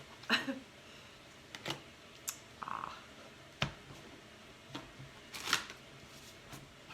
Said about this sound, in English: I'm going to shuffle up for number 3